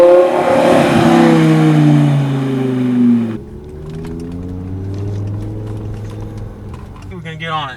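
BMW M5 accelerating on a drive, a loud engine note that climbs in pitch through a gear and then drops to a quieter, steadier drone, with voices talking over it.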